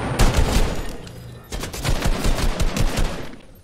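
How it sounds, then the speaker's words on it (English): Rapid automatic gunfire in a Fortnite-style battle royale video game played with assault rifles, dense bursts of close shots in two volleys separated by a brief lull. "I'm getting shot at"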